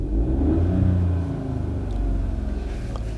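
A Hyundai Bayon's three-cylinder engine idles and revs close by, a low throbbing rumble that swells briefly then settles into a steady, slightly pulsing hum.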